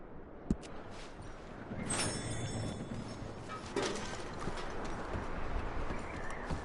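Horses in the video game Red Dead Redemption plod with steady clip-clopping hooves at moderate distance, along with faint rustling and harness sounds and no talk.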